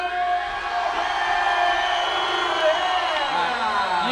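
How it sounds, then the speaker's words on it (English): Home crowd at a Sao Paulo kickboxing world title fight, cheering steadily as a dense, sustained roar with whoops rising above it, loud and continuous throughout. "You can hear the home crowd."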